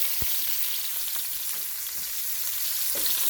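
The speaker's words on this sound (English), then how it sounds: "So I'm gonna go ahead and add my onion and bandana. I'll let that fry up for the curry." Onion and bandana fry in hot oil as the start of a curry, giving a steady hissing sizzle with a few soft stirring knocks, close and continuous, with no voices.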